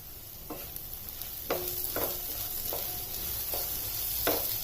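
Green chilli sabzi sizzles steadily in a pan while a spoon scrapes through it in about half a dozen distinct, evenly spaced strokes, close and fairly quiet.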